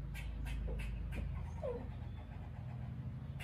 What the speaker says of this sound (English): this time it's a chipmunk that has the dog all riled up